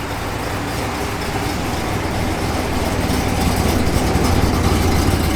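A 1970 Pontiac GTO Judge engine idles with a steady, loud, deep rumble that holds even throughout, heard close with no voices over it.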